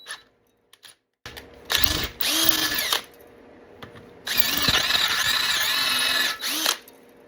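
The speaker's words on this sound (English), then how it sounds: "So we'll drill this hole until it's" A power drill runs in two bursts, whining as the bit bites into metal while drilling out stripped threads for retapping, with a short pause and handling clatter between them; close and loud.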